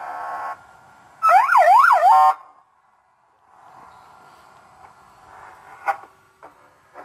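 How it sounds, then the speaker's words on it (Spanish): Siren tone played through a drone loudspeaker during a Swellpro technical service course in Barcelona: a loud rising-and-falling wail lasting about a second, preceded by a short tone and followed by quieter background hum and clicks. "Las sirenas, se lo graban las sirenas."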